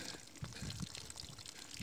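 Water is poured over a cow to wash it in a Rajasthani village, heard as a soft, faint splashing and trickling for a couple of seconds with no talk.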